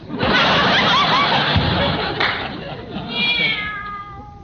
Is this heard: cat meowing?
yes